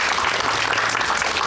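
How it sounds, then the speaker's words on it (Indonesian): A television studio audience bursts into brief, loud, dense applause for a young Quran reciter. "Boleh tepuk tangan dulu"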